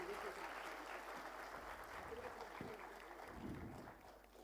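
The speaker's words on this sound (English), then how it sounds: "Let's give them a big round of applause" Applause from an audience at a CA students' conference, a steady wash of clapping from many hands in a large hall, faint and sustained for several seconds with a few louder claps.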